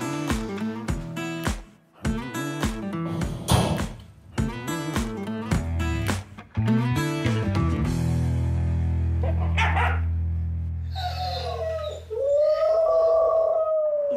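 A dog with separation anxiety left alone at home, barking in rapid loud bursts at first, then breaking into long drawn-out howls, close and unaccompanied by talk.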